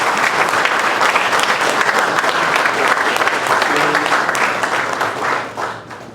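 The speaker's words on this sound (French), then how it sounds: "je vous demanderai d'ailleurs d'applaudir tous les intervenants" Audience applause for the speakers at the closing session of the SIF22 forum, a dense, loud wash of many hands clapping steadily throughout and thinning out toward the end.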